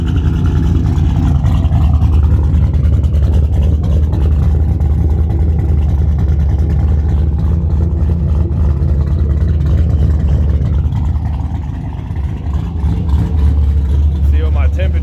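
An LS-swapped BMW E65 runs without mufflers, a loud, deep, rumbling idle with a slight dip in revs near the end, under faint talk.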